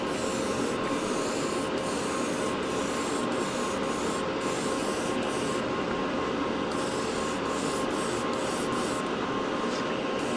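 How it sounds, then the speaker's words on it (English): A Gaahleri Mobius SP airbrush sprays paint in a continuous close hiss, with a light coat laid down along edges and brief regular dips where the trigger pauses. There is no talking. "I really like the way this brush sprays. It's got a nice pattern."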